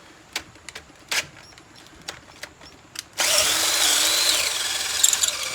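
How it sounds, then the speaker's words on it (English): A power drill whirs continuously at high speed after a few sharp taps and knocks, grinding steadily through metal up close while fitting a 125cc engine to a CT110 motorcycle. "Just make sure you lots of speed on the drill and don't push hard."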